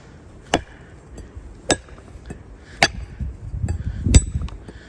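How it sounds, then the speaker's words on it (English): An axe or similar tool whacks a dead, dry, downed log outdoors: four sharp, distinct thwacks spaced about a second apart, fairly near, with light rustling between them. "I just wanted to give it a couple whacks"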